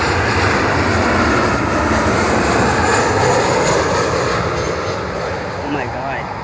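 Airliner flying in low to land at an airport, a loud roaring engine drone that dominates and fades slightly toward the end, with people talking over it.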